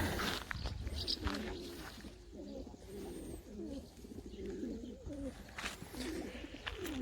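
Pigeons coo in soft repeated rolling phrases close by in an open lot, a steady series of throaty calls alongside faint background noise.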